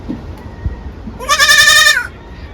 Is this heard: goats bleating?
yes